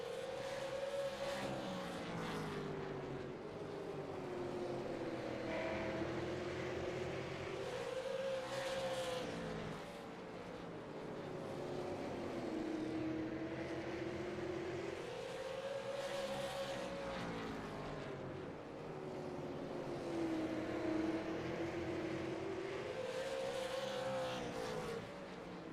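Super late model race cars lap the South Boston oval, engines roaring steadily throughout with repeated rising and falling pitch as the pack passes and shifts, loud and continuous with no talk.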